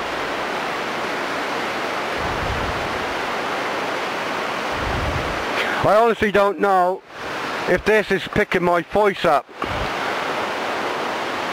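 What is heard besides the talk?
waterfall rapids rushing at night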